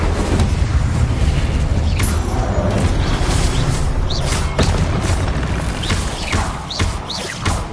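Incendio fire spell in the Hogwarts video game, a dense continuous rumble of booming fiery blasts with thuds and whooshes layered over one another, loud and sustained throughout.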